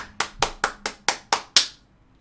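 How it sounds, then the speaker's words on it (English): Seven evenly spaced, sharp hand claps ring out alone in a quick steady rhythm, each decaying briefly, loud and close, during an NBA 2K15 MyTeam pack opening. "Can we get a round of applause?"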